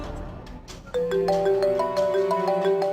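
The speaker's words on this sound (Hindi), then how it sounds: "फोन आ रहा।" Phone ringtone for an incoming call, a bright synthetic melody of sustained tones starting abruptly about a second in and repeating its phrase steadily over soft background music.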